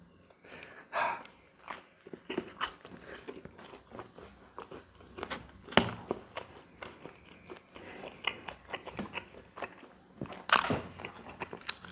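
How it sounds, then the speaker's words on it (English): Close, crisp bites and steady crunchy chewing of Little Caesars cheese bread with a browned, crispy frico cheese crust, irregular mouth sounds repeating throughout with no talking. "Let's try this cheese bread."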